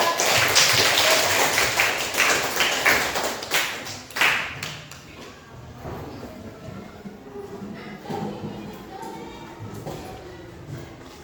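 Children applauding in a classroom, a burst of dense clapping that fades and thins into scattered taps and murmuring voices over about eleven seconds.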